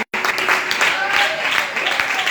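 Church congregation breaks into applause after a sermon point, dense clapping from a crowd following a brief silent gap, with some voices mixed in.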